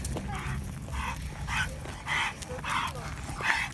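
An excited dog yips and whines in a quick series of high, repeated barks, close by over a low rumbling background.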